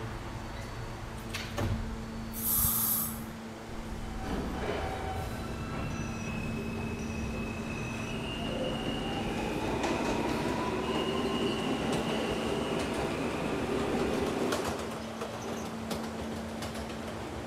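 A Roblox R160A subway train on the F local line runs steadily with a constant rolling rumble, a sustained motor tone and rising whine, and brief squeals and clunks early on, heard close from inside the car with no talk.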